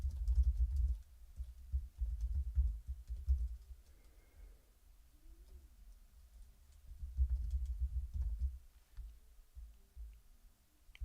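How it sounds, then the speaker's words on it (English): Rapid typing on a computer keyboard, with dense, uneven clicking keystrokes close to the microphone and a short pause mid-way before the typing resumes; no talking. "Keyboard."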